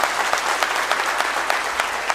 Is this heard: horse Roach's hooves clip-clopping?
no